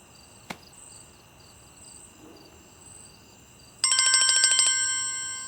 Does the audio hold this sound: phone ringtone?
yes